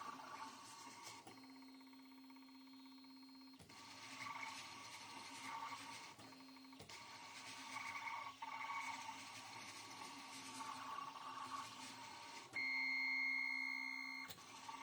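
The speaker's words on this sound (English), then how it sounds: "that's why my cutter is acting a little slow right now" Wireless vinyl cutter slicing heat transfer vinyl: quiet motor whirring and stepping tones with intermittent steady electronic hums and a few sharp tonal whines, no talking.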